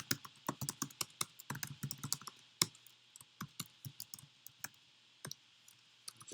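Fingers type on a computer keyboard while writing a program, producing a quick, irregular run of close clicking keystrokes with short pauses, no voices.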